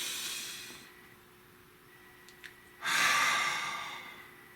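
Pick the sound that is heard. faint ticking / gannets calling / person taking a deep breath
person taking a deep breath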